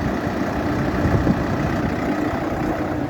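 A Solis 110 turbo tractor engine idles steadily nearby, a low, rumbling diesel drone that holds constant without revving.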